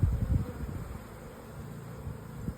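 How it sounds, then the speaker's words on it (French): Honeybees buzz steadily around their hives on an autumn day, a continuous hum with a few louder close passes near the start and end, no voices. "une dernière petite journée d'automne pour les abeilles, elles sont encore bien actives"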